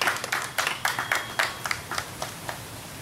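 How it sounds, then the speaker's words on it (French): At a wedding, a small group claps in scattered, uneven bursts, with a few sharp hand claps spread across three seconds over a quiet room. "Applaudissez s'il vous plaît"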